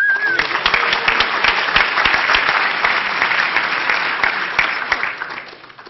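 A conference crowd at ShmooCon 2008 closing remarks claps loudly for the third-place winner, a dense burst of applause that holds steady and then tapers off near the end.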